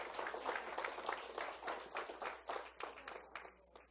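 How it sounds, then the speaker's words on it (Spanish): Church congregation clapping for about four seconds, a steady patter of many hands at moderate volume that thins slightly toward the end, with no talking over it. "Démosle un aplauso al Rey de Reyes."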